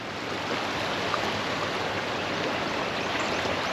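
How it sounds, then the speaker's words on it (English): Floodwater after a hard April rainstorm rushes steadily beside a church near a bridge, a dense, continuous roar of fast-running water close by with no voices. "the water's running pretty hard here too"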